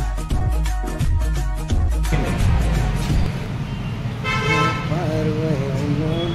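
A car horn gives a short toot as a vehicle pulls up, heard over rumbling engine noise and people talking nearby.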